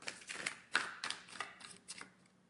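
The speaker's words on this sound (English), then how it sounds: "This is how I shuffle to draw." A deck of tarot cards is shuffled by hand at close range, quiet papery riffles and soft slaps arriving in irregular bursts over a couple of seconds, with no talking.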